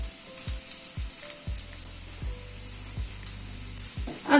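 Chopped ginger, onion and green chilli sizzle steadily in hot oil in a pan, with repeated scraping stirs at a regular rhythm, close and fairly loud with no talk.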